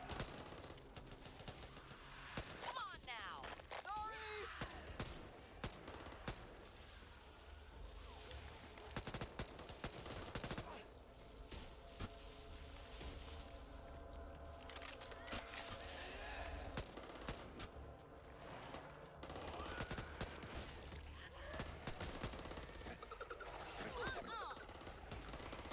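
Sustained gunfire in Metal Gear Solid: Peace Walker, with bursts of rifle and machine-gun shots rattling on and off over the whole stretch amid crashes and battle noise.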